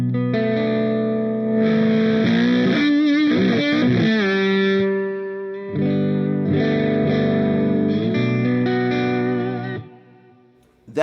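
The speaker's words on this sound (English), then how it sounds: "This is my Expresso Effects Germanium fuzz. It's based on an old fuzz face with Germanium transistors." Electric guitar played through an Expresso Effects Germanium fuzz pedal modeled on a vintage Fuzz Face with germanium transistors. Thick, buzzing sustained chords and bends ring out and fade to silence.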